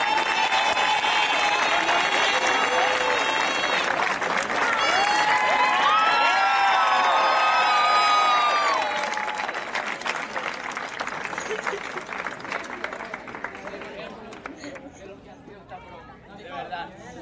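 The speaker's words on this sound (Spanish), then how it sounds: "le pido un fuerte aplauso" A crowd at a school class's bonfire-lighting ceremony bursts into loud, sustained applause with cheering voices and whistles, strongest for the first nine seconds before thinning out toward the end.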